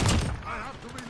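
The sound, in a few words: gunfire in video game Modern Warfare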